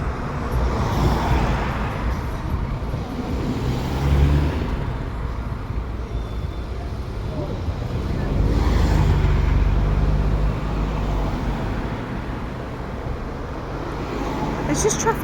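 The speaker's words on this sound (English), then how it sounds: "There's just traffic everywhere." Road traffic heard while crossing a busy road on foot, a continuous wash of passing cars with engine swells rising and fading past, fairly close, and a person talking over it at points.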